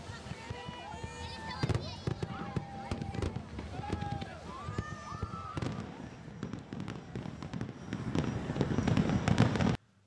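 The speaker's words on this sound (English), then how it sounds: "Jumping waves, a tradition to bring good luck under the bright, colorful lights of the fireworks display" New Year celebration fireworks crackle and pop in the distance beneath a reporter's voice, with scattered sharp bursts building louder toward the end.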